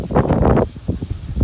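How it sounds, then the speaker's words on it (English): Low rumbling buffets of wind strike the microphone in gusts outdoors in Vermont, a loud blast followed by softer irregular thumps. "Sorry about the wind. It's always windy today."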